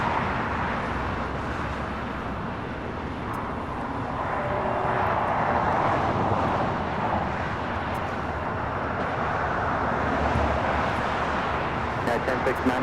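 An American Airlines jet with a reported flap issue approaches to land on LAX's south side, its engines a continuous, moderately loud roar that swells slightly midway and stays steady.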